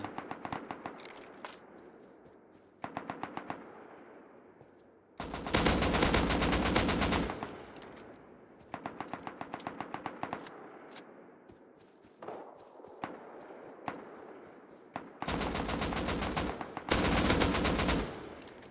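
Video game gunfire in repeated bursts: rapid automatic rattles and single cracks alternate with louder, sustained full-auto strings, close and punchy, separated by short pauses and no talking.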